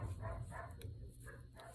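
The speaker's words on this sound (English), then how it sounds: "those dogs are barking" Faint dog barks come from a distance, a couple of quick yaps in a row over a low background hum.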